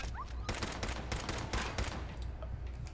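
Rapid automatic gunfire in Fallout 4, a steady rattle of close, loud shots in quick succession that runs almost without pause.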